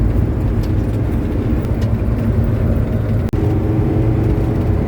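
A truck drives along a motorway, its steady low road and engine roar filling the scene continuously at close range, with a brief dip partway through.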